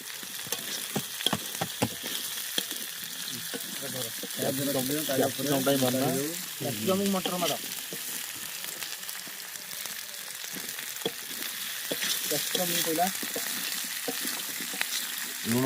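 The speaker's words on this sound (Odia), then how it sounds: "ଭଜା ଚାଲିଛି, ପିଆଜ ଆଉ କ୍ୟାପ୍ସିକମ୍ ଭଜା" Chopped onion and capsicum fry in a pan for chilli cabbage, giving a steady bright sizzle throughout with intermittent scraping and stirring clatter. A voice speaks briefly over it.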